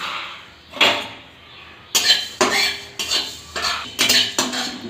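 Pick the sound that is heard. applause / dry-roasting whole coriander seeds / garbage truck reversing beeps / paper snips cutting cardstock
dry-roasting whole coriander seeds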